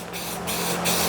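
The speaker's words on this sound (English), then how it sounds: "you just gotta spray it on, let it dry" An aerosol spray can paints a laundromat repair part, giving a close, steady hiss in a few continuous bursts that swell slightly, with no talk.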